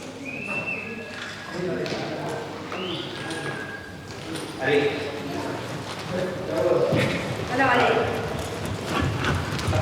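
Friesian circus horses warm up for rehearsals at the Swiss National Circus, their hooves clip-clopping in a steady, uneven rhythm nearby while voices talk over the arena noise.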